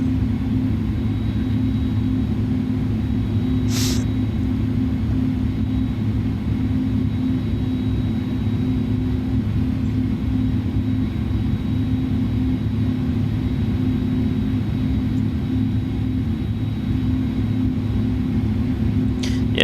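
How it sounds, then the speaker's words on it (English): An Airbus A310 auxiliary power unit starts up in Microsoft Flight Simulator at night, a steady loud low droning hum with a faint whine throughout, plus a couple of brief clicks from cockpit switches. "Let's start up the APU."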